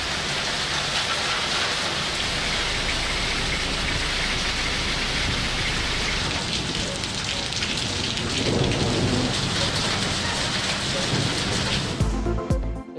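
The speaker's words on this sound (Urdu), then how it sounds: "اسلام آباد کے مختلف علاقوں میں پھر گرج چمک کے ساتھ طوفانی بارش۔" Heavy rain pours down steadily in a thunderstorm over Islamabad, with deep rolling thunder rumbling underneath, loud and continuous with no voices, before a sudden cut near the end.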